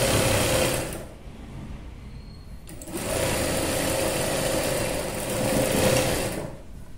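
A sewing machine stitching a boat neck dress with thread piping: steady, fast mechanical whirring in two close bursts separated by a short quieter pause, with no talking.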